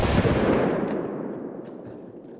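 A single loud pistol shot from a ported CZ Shadow 2, a sharp blast up close that rings out and decays over about two seconds.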